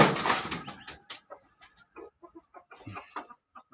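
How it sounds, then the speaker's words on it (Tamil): Chickens cluck in short, close bursts on a farm in the morning, after a brief loud flap or rustle at the start, with scattered clucks and calls filling the rest. "சேவல்"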